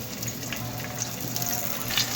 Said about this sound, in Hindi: ऑयल हमारा गर्म हो चुका है, आधे प्याज भून लेंगे, ब्राउन कर लेंगे हम।